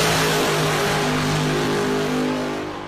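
A nostalgia funny car with a roughly 4,000-horsepower engine on a tube chassis accelerates hard, a loud, close, harmonic roar that holds steady and then begins to fade.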